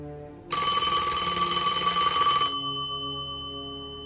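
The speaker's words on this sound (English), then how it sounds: "she was startled by the sudden ringing of the phone" An old-style telephone bell rings loud and close in one continuous two-second burst, then fades out with a lingering ringing tail.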